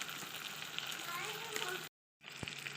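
Ground cumin and coriander, green chili and nut paste, and biryani masala fry with a little water in a pan, giving a steady, close sizzle that cuts out briefly and then resumes.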